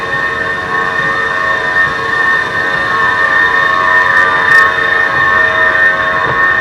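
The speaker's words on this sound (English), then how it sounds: "I've been on many of the escalators. They're very, very noisy." A long escalator in the DC Metro gives a steady, loud mechanical drone with sustained whining tones and an even rumble underneath, continuous and unbroken with no voices.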